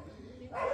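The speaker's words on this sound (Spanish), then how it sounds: "los perros me hicieron olvidar dónde iba" Dogs bark close by, a burst of barking rising suddenly in the last moments after a quiet stretch of low room noise.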